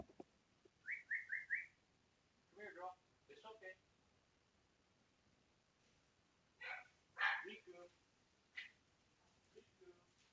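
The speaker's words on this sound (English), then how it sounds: "My dogs are barking." Several dogs barking indoors in short bursts, with sharp yaps and a few high whistle-like yelps, moderately near and intermittent across the clip.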